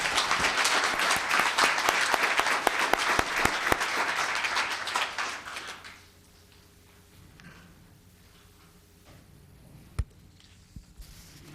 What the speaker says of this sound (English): Please give one more round of applause for Morgan.